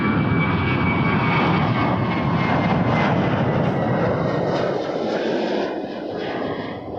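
Jet airliner at Toronto Pearson Airport taxiing and taking off, a loud, steady engine roar that holds throughout and fades slightly near the end, with no voices.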